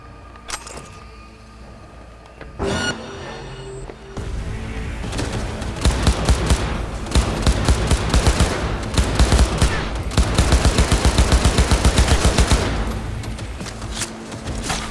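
Gunfire in the video game Cyberpunk 2077: loud, dense automatic bursts and rapid fusillades crackle repeatedly, with rhythmic machine-gun volleys over a rumbling background and a few sharp single shots.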